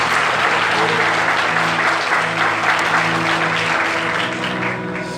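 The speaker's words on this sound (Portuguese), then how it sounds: "você pode aplaudir a Deus por causa disso?" Church congregation clapping together in a sustained, dense round of applause, with a faint held musical tone underneath, tapering off slightly at the end.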